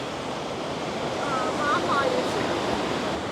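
A steady rushing wash of ocean waves and surf at Matara, Sri Lanka fills the clip, broad and constant, with a faint voice briefly audible beneath.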